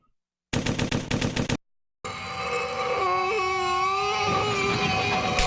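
Gunfire in the FMV video game Corpse Killer, a quick burst of rapid, evenly spaced shots lasting about a second, then silence and a sustained droning game sound with shifting tones.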